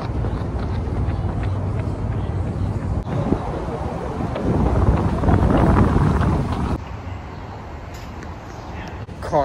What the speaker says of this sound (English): the gusts of wind are strong